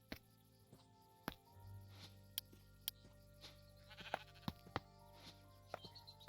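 Sheep bleat in a Minecraft modpack game, heard faintly among sharp clicks and game sound effects, with a low hum running underneath.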